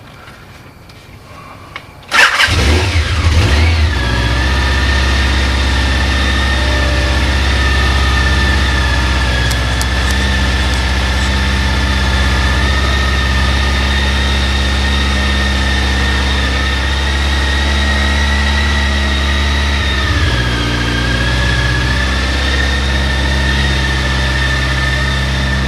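A motor starts after a brief quiet moment and then runs at a steady idle with a deep, continuous rumble and droning hum, heard close up from a homemade helmet camera, its pitch dipping slightly near the end.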